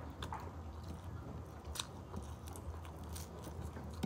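Someone eats a breakfast of dried fish and okra, with soft, close chewing and occasional crunchy bites over a low background murmur.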